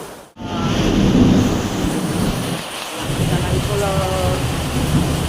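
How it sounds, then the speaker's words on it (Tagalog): Loud, close downpour of heavy rain drumming steadily, with a brief dip early on and faint tonal sounds in the background. "Lakas na ng ulan, guys."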